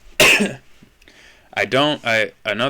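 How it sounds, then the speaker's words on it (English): A single sharp cough from a person with a lingering post-illness cough and irritated throat rings out near the mic, followed after a pause by a person speaking. "I still have had a cough ever since being sick last week"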